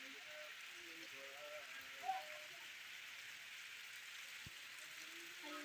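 Steady rain falls in a village during summer, a soft even hiss of drops on surfaces with a faint voice talking in the background and one small knock.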